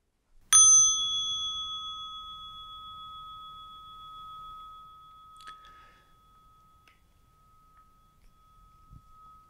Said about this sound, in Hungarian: Hallod ennek a harangnak a hangját?